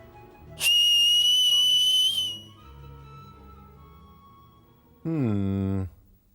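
In a cartoon, Tico blows two loud whistles to escape: a long, piercing high tone held nearly two seconds, then after a pause a shorter lower whistle, with faint voices murmuring between.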